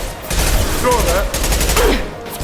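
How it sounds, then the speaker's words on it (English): A concussive shot fires in the Mass Effect 2 video game, giving a sharp burst of gunfire-like cracks under game noise and brief electronic tones. "Firing concussive shot! Hell of a shot."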